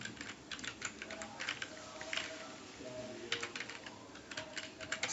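Quick bursts of keystrokes on a computer keyboard, light close clicks in short irregular runs with brief pauses between them, fairly faint against a quiet room background.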